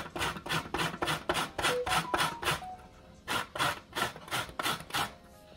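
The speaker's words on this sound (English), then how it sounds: "When you do it with the grater, you get everything out of it." An ingredient for Jamaican toto, a moist coconut cake, is scraped against a hand grater in quick repeated rasping strokes, a fast run of about a dozen, a short pause, then several more, close and fairly loud with no talk.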